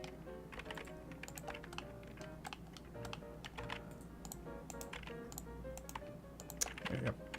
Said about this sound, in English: A lot of clicking.